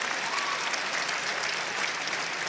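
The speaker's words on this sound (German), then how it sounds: "Verdienter Applaus für beide." Dense, sustained applause from a large crowd at an MMA event, steady and loud throughout with no pauses.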